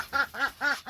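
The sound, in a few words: Muscovy duck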